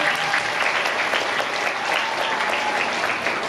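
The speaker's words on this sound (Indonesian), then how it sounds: "tepuk tangan dong buat Mbak Lady." A seminar audience at a poetry and short-story anthology launch gives steady, even applause for a participant, a continuous mid-distance clatter of many hands lasting several seconds with no talk over it.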